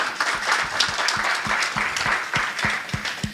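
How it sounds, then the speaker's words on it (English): A panel event audience applauds with steady, dense clapping that carries on without a break, moderately loud and heard on its own. "Guys, give them a round of applause."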